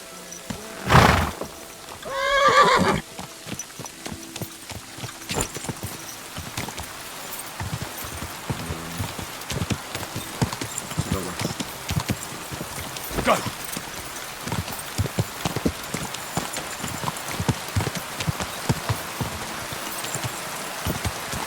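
Horse hooves clip-clopping along a path in the rain in Kingdom Come: Deliverance II, a steady irregular patter of hoofbeats over rainfall, with a short loud burst near the start that could be a neigh.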